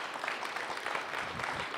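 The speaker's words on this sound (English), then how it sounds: "Let's give him a warm round of applause." Audience applause at a conference talk on hacking an experimental ESA satellite: a steady, soft wash of many hands clapping together, fairly distant and even for under two seconds with no voices.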